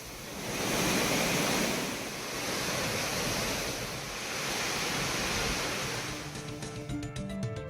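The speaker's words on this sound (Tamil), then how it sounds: "இருப்பினும் ஒகேனக்கல் அருவிகளில் நீர் ஆர்ப்பரித்து கொட்டுகிறது." Water gushes down the Hogenakkal waterfalls on the Kaveri river in a dense, continuous roar that swells and eases slightly. A short tonal sound enters near the end.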